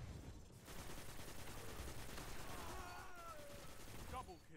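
Sustained, fairly quiet automatic fire from a Vision Stone auto rifle in Destiny, a continuous rattling stream of shots with distant battle noise underneath.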